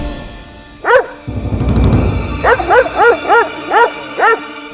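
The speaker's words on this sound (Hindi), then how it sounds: "इस कुत्ते को बाहर ले जाइए।" A dog barks inside a courtroom during a hearing: one sharp bark, a burst of rustling commotion, then a run of five or six evenly spaced, loud barks close by, with no talking.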